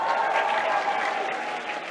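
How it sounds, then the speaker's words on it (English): Audience applause fills the room, a dense, steady patter of many hands clapping close up for a couple of seconds, with no talk over it. "Give yourselves a round of applause."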